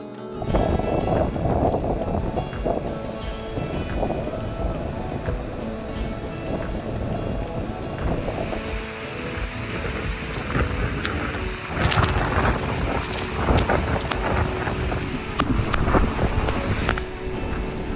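A roaring waterfall on the Milford Track, a huge volume of water dropping a long way, producing a dense, constant thunder-like rumble that stays loud and unbroken throughout, with no voices.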